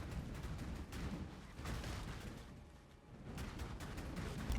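Rolling magma projectiles fired repeatedly in Path of Exile's Crucible league, a dense, rumbling stream of bursting, crackling impacts pulsing continuously at moderate, fairly quiet level.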